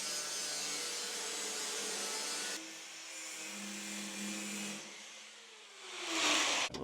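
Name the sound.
grinder cutting steel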